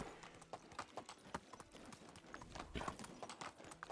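Horse hooves clip-clopping in the medieval video game Medieval Dynasty, a quick, steady run of soft hoof knocks over faint background sound.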